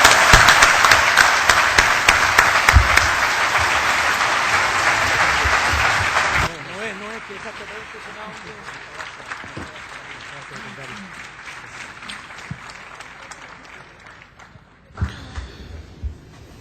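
Conference audience gives loud, sustained applause for about six seconds, then it drops to scattered lighter clapping and murmur with someone speaking, before a brief final burst.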